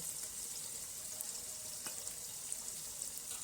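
Squid cooks in a pan with turmeric, garam masala, chili powder and salt added, giving a steady close sizzle of frying with faint occasional scrapes and no talk.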